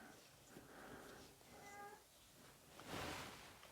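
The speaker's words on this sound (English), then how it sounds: "my cat is outside and wants to come in here" A cat outside meows repeatedly to be let in, faint and somewhat distant, with several drawn-out calls and light rustling in between.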